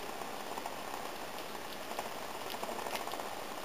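Sugar syrup boiling in a pot, a dense steady crackle of small bursting bubbles, close and constant with no speech.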